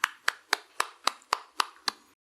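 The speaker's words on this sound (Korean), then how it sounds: "영광의 박수 돌려보내겠습니다" A church congregation clapping at a Sunday worship service: eight sharp, evenly spaced claps in a steady rhythm over about two seconds, close and clear, then silence.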